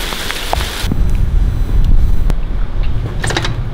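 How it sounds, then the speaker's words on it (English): A heavy hailstorm pours down outdoors as a loud, dense, continuous roar of hits, with a few sharper cracks and clatters heard close by, and no talking. "Hailstorm just opened up."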